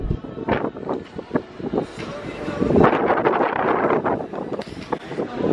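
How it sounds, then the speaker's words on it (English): Strong wind gusting across the open deck of a cruise ship, a steady roaring rush that swells louder midway, close-up microphone buffeting throughout. "Very windy."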